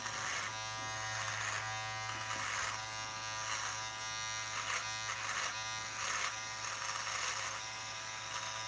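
A steady, close electric shaver buzz runs throughout as a head is shaved, with a constant motor drone and slight shifts in pitch as the blades move over hair, no talking.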